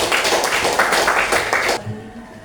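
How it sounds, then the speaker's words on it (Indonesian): Classroom students clapping for a group after its presentation, loud dense applause that stops abruptly near the end and leaves a quiet room. "Oke, tepuk tangan lagi."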